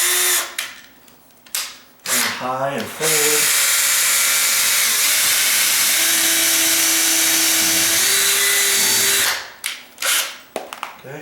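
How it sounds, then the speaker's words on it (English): A cordless power drill drives screws into a sagging door, whining loudly and steadily for several seconds with short bursts before and after, a brief spoken phrase at the start. "Now, I've got just enough room to get my drill in here."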